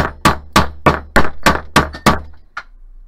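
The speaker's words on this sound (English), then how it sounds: "You're gonna take your hammer, whether it be a dead blow hammer or a household hammer, and you are going to pound the shit out of this." A hammer pounds metal on a bench block in a metal texturing session, about eight sharp, evenly spaced close strikes that trail off into one lighter tap.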